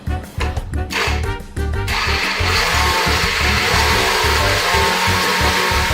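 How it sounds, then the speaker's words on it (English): A blender runs steadily as it purees a honey garlic hot sauce into a liquid, whirring loud and continuous after a brief stuttering start. "So I'm going to blend this until it's pretty liquidy."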